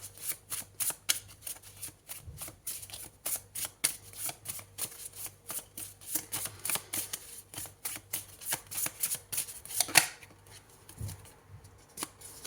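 Tarot cards are shuffled in a steady run of crisp riffling bursts for about twelve seconds, close and moderately loud with no talking.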